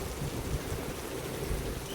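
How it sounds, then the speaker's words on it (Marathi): A heavy hailstorm with rain in Maharashtra, marble-sized hailstones and rain making a constant dense hiss and rumble, steady and fairly faint, with no voices. "खेळायच्या गोट्या असतात त्याच्यापेक्षा मोठमोठ्या गारा आहेत. धडाधड आवाज येते भावांनो. एवढ्या खतरनाक गारा पडतात."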